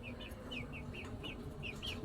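Young chickens, mostly red with two black ones, give a run of short high chirps and cheeps in a steady rhythm, faint and somewhat distant over a low background hum.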